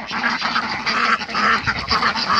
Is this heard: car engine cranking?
no